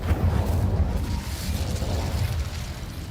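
Incendio fire spell cast in the Hogwarts Legacy video game: a dense, loud rumbling burst of fiery noise with a heavy low roar that holds steady for about three seconds.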